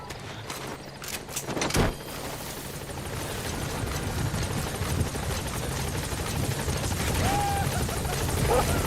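A video game helicopter approaching a landing zone gives off a continuous rotor drone that builds slightly louder over the stretch, with a sharp clunk near the start and faint game tones later.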